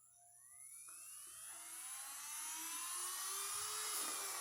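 A small electric nail drill motor whirs up from low to a high-pitched whine, rising steadily in pitch and volume like a drill reaching full speed.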